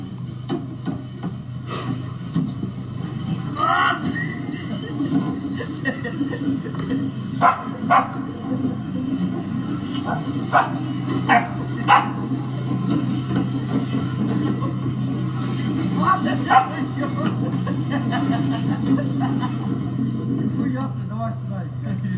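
Dog barking in a snowy winter outdoor setting among Ukrainian soldiers playing on ice, with sharp barks scattered through a steady low hum and people talking over it.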